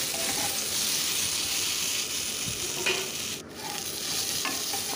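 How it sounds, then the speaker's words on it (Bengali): Salted vegetables fry in a pan, a dense steady sizzle with a few scraping stirs of a spatula, close and loud, briefly dipping near the end. "নুন দেওয়ার পরে আবার একটু নাড়াচাড়া করে দিচ্ছি।"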